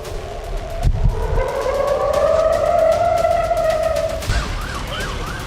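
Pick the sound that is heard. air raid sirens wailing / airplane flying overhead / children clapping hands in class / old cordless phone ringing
air raid sirens wailing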